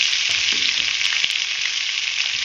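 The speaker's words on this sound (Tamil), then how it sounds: "கடலெண்ணெய் கொஞ்சம் சூடான பிறகு வெண்டைக்காய் சேர்த்துக்கலாம்" Okra frying in hot groundnut oil, a steady dense sizzle with no break, loud and close, with a few faint clicks underneath.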